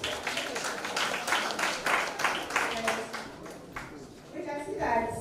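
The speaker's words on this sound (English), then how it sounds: "Now we clap for Madam Grace." An audience at a Nigerian export promotion event in Cross River State claps for a woman being honoured, a moderate round of rhythmic clapping that fades out while a voice speaks over it.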